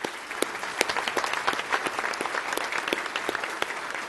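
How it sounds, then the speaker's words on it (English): An audience at a county State of the County address bursts into steady applause, a dense patter of many hands clapping at close range with no speech over it. "Please give them a big round of applause."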